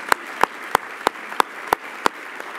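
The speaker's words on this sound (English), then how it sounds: "So let's give Ann Mora, if we could, a round of applause." At a National Service awards ceremony, an audience applauds honoree Ann Mora with a string of seven crisp, evenly spaced claps in a steady rhythm, close and distinct.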